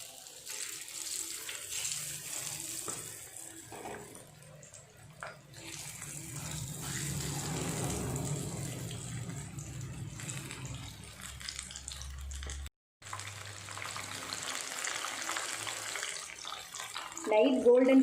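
Mushroom pieces for mushroom 65 deep frying in hot oil in a pan, a steady, close bubbling hiss that runs almost the whole time, with a brief gap near the end.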